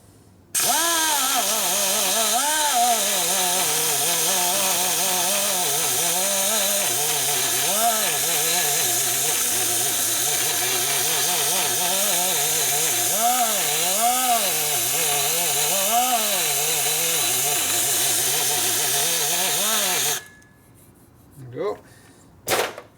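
A rotary tool with a smoothing bit grinds a 1966-74 Harley shovelhead cylinder head being repaired for a blown head gasket, a loud continuous whine that rises and falls in pitch as the load varies, then cuts off abruptly near the end.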